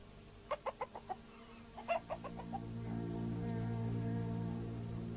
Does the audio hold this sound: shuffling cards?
no